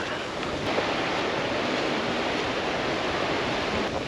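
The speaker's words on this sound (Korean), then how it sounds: "바람까지 쫙 부니까 파도도 좀 많이 치고" East Sea surf crashing on the rocky shore near Seuldo and Bangeojin harbor in Ulsan under strong wind, a continuous loud roar of breaking waves and gusting wind buffeting the microphone, with no talk.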